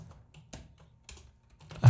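Sparse keystrokes on a computer keyboard as code is typed into a Unity 4.3 script, a few soft scattered taps in quiet, then a louder clack at the end.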